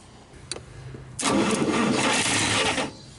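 Engine on a 1951 Studebaker or 1948 Nash cranking with a couple of brief turns, then catching and roaring into a loud, rough run before dropping off abruptly.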